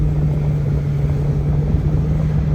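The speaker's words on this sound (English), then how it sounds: "Hear that clutch?" A 2002 Toyota Echo with a manual gearbox and a slipping clutch, heard from inside the cabin while driving: a loud, steady low engine drone with a constant hum that holds without a break.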